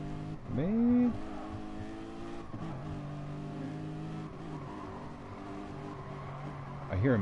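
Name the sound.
race car backing off throttle in Gran Turismo Sport video game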